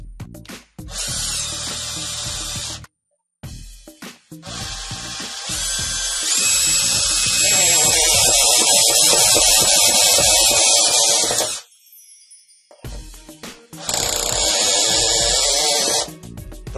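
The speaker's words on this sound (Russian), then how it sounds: "Вот я саморез по дереву приготовил 70 миллиметров. Закрутит он или нет?" Cordless drill driving a 70 mm wood screw into wood through a flexible shaft extension: several loud bursts of whining motor noise, a brief pause near three seconds, a long sustained run straining as the screw tightens, then a final burst.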